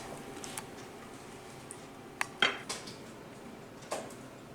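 French toast is lifted from a pan onto a plate with a few soft, scattered clinks of metal on dishware against quiet room tone.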